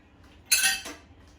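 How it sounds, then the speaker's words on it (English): A lid set back onto a kimchi container gives one bright clinking knock with a short rattle right after, close and alone against a quiet kitchen background. "I'm going to go ahead and put the lid back on."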